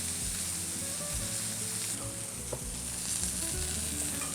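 Steaks sear in a hot pan for a pan-roasted steak dish, giving a steady, loud, close sizzle and crackle that runs the whole time, with music playing underneath.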